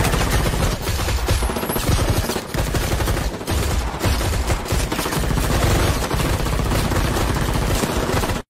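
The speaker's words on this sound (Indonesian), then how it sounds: "tiba-tiba, lampu menyala dan seketika tembakan beruntun menghujam mereka." Sustained bursts of rapid automatic gunfire, loud and dense, rattling almost continuously with brief gaps before stopping abruptly.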